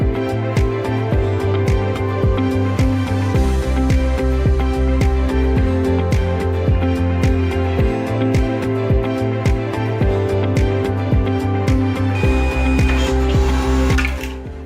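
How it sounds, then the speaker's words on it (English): A Seaory S25 single-sided ID card printer running a test print, giving a steady mechanical whirring with rhythmic stepping clicks and shifting motor tones, sounding close and continuous before slowing near the end. "With everything set up, let's perform a test print."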